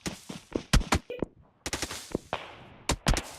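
Rapid bursts of gunfire in the mobile battle royale game PUBG Mobile, several sharp volleys of close shots spread across the moment with short gaps between them.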